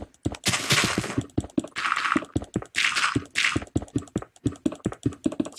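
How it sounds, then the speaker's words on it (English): Rapid computer mouse clicking during Minecraft play, a dense run of sharp, close clicks with bursts of keyboard-like tapping throughout. "If you can hear clicking of the mouse, it's my mouse."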